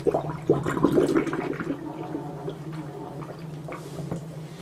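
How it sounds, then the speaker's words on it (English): Water drains out of a sink after a wool cover has soaked in it, a gurgling, bubbling rush that is strongest at the start and gradually fades to a soft trickle. "gently let the water out of the sink"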